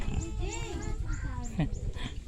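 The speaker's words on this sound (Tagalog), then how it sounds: "Itong native na baboy." A native pig in a rice-farming area lets out a short run of low grunts close by, under a person's voice and outdoor background noise.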